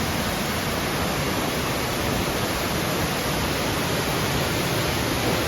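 Aruvikkuzhi waterfall roars in a steady, dense rush of falling water, loud and close, unbroken for the whole stretch with no voices.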